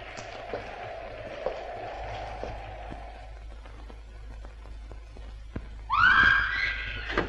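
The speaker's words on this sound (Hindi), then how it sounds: "तुम्हें किसी लड़के की चीख नहीं सुनाई दी?" A boy's sudden, high-pitched scream in a scene from the 1958 Hindi film Madhumati. It bursts out loudly near the end after a stretch of quiet, pattering background noise.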